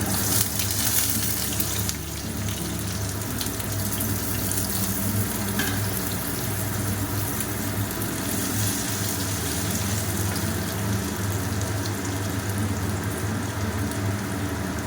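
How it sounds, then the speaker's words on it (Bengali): Boiled potato pieces frying in hot oil, a steady, close sizzle that runs continuously and evenly throughout with no voices. "এরপরে আমি ওই তেলে ছোটো ছোটো করে টুকরো করা যে আলুটা সেদ্ধ করে রেখেছিলাম, সেই আলুটা এবার আমি ভেজে নেব।"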